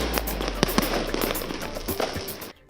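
New Year fireworks and firecrackers burst in a rapid string of sharp cracks and pops, loud and dense, fading out abruptly at the end.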